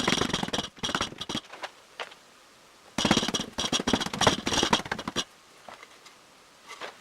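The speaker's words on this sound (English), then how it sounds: "I have to press a bit more while sanding" Hand sanding with high-quality sandpaper during a benchtop jointer build: close, dry scratchy strokes in bursts of rapid back-and-forth rubbing, separated by short pauses.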